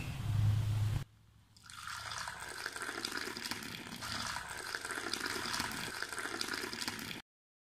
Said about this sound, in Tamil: இப்போ நம்ம இதை ஒரு பாத்திரத்துக்கு ட்ரான்ஸ்ஃபர் பண்ணிடுவோம்